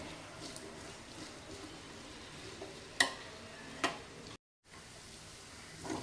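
Potatoes frying for a dry-style village aloo fry, stirred in a pan with soft steady sizzling, a couple of sharp scraping clicks, a brief silent gap, then the sizzle resumes.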